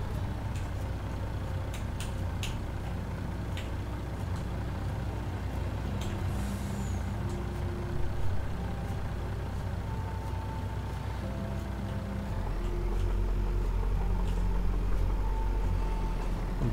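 A farm vehicle drives in Farming Simulator 19, a steady loud engine drone with low rumbling tones and occasional hiss-like bursts, continuous throughout with no talk.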